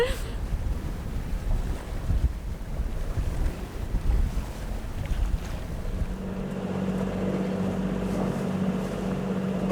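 Sailboat forcing its way through a Mediterranean channel in strong wind, with steady loud wind buffeting the microphone and rushing water and waves throughout, and a low engine-like drone joining in the second half.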